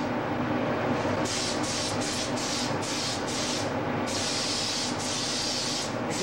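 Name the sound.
spray gun spraying coating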